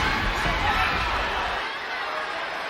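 Wrestling arena crowd from an older-era match, a broad steady roar of many voices that holds fairly loud and even, then thins slightly toward the end.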